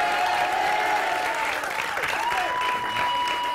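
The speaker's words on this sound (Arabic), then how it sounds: "صفقوا اجي عندي، تفضل معايا" Studio audience at a TV talk show clapping in a dense, steady burst, with music and voices underneath.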